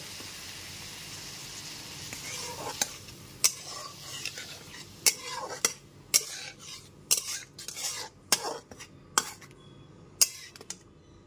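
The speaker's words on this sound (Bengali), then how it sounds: "সমস্ত গুঁড়ো মশলাগুলো দিয়ে দেওয়ার পর মশলাটা যাতে পুড়ে না যায় ওই জন্য সামান্য একটু জল দিয়ে একটু সময় নিয়ে কষিয়ে নেব" Spice masala with a little water being stir-fried in a pan, a soft sizzle beneath repeated sharp clinks and scrapes of a spatula against the metal, close and irregular, without talk.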